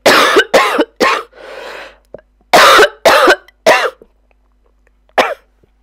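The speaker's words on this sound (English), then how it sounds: "had to cough" A person crafting a card coughs repeatedly at close range, in two clusters of harsh, loud coughs with a breath between, and a final single cough after a short quiet gap.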